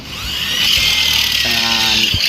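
A power drill enlarges a 1/8 hole in the aluminium frame of a 38 series awning window, a steady high whining bore running close and loud throughout, with a brief lower tonal hum partway through.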